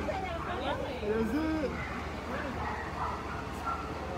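A small pug barks and whimpers in short, high yelps, with people talking nearby over a steady low hum, during the unloading of rescued puppy mill dogs.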